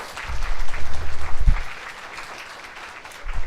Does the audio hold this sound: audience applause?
yes